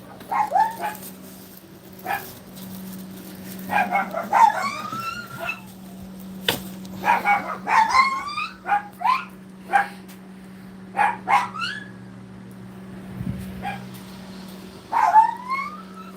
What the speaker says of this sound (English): There's a dog going nuts, and I don't know how to get in.